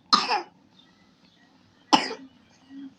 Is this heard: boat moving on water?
no